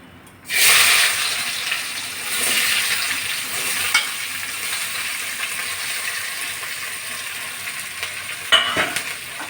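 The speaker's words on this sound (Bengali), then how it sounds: "আমি মাছ ভাজা তেলের ভিতর পেঁয়াজগুলো ভেজে নিচ্ছি" Sliced onions fry in leftover fish-frying oil, a loud steady sizzle that bursts in suddenly and then holds, with occasional stirring clinks and scrapes close by.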